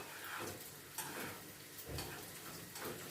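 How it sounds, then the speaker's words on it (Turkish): Rice roasts in a pan at home, a faint continuous crackling sizzle with soft scraping stirs now and then, heard alone at low level. "Bir güzel pirincimi kavuruyorum kız şerer"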